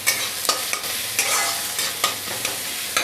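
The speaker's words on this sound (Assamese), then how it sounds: "লৰাই দিছোঁ।" A spatula stirs colocasia with turmeric in a hot pan, steady sizzling frying with repeated scraping strokes close up, no voices.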